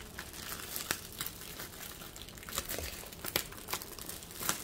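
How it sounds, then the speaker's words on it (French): Plastic wrap around an Amazon package crinkles and crackles continuously up close, with irregular louder crunches as it is handled and pulled. "Ils ont mis le plastique tout autour."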